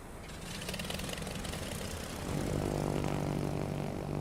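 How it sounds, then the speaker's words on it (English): Propeller aircraft engines of torpedo bombers in the World of Warships video game, a steady buzzing drone that swells louder and deeper about halfway through, with no voices. "my carrier was detected by enemy torpedo bombers and attacked"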